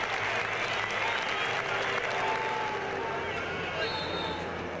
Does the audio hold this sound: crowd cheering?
yes